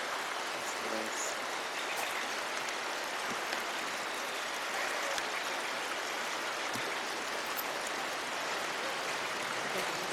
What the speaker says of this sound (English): what creek is this? Lone Pine Creek, I think?